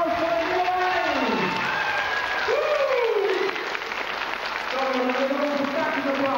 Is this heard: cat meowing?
no